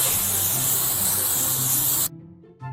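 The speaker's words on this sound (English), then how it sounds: "Spray foam, because why see your walls when you can bury them in fluff?" A spray foam insulation gun hisses with a loud, steady pressurized spray for about two seconds, then cuts off abruptly, followed by a brief faint spurt.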